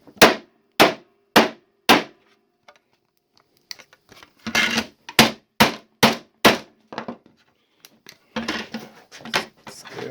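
Sharp hammer blows strike a Mirock Squares plastic ruler, first in four spaced knocks, then in irregular bursts of close, loud impacts separated by brief clattering and handling noise.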